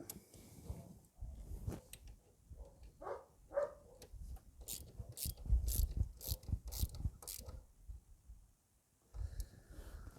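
A wrench ratcheting as bolts are rechecked for tightness, a run of quick clicking pawl bursts in short separate goes, close and fairly loud, with a quiet spell before one last brief burst.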